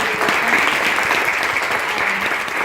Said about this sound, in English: give a round of applause to the green team